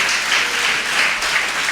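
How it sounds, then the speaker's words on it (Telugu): Congregation applauding at a Sunday worship service, steady dense clapping filling the whole stretch at an even level with no voices above it. "ఇప్పుడు కొట్టండి, చప్పట్లు కొట్టేదేదో."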